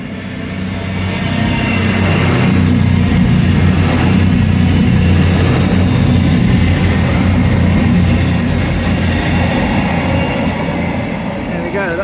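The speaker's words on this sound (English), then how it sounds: "That's a slow, fast train." A train rumbles past steadily at close range at Dawlish, a heavy low roar with a faint high whine, swelling and then slowly easing away.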